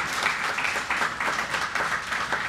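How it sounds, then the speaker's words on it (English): An audience at an Orlando tech community panel gives a steady round of applause, a dense wash of many hands clapping at even loudness throughout. "Let's give them a round of applause."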